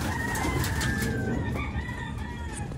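Fighting roosters crowing at a derby, several overlapping drawn-out cock-a-doodle calls with clucking fowl around them, close and clear over a steady outdoor background.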